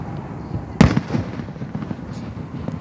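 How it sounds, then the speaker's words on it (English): Fireworks at a Booster Day celebration in Hudson, one sharp close bang near the start followed by a rumbling tail and faint distant pops over a steady outdoor background. "Made it to the Booster Day fireworks celebration."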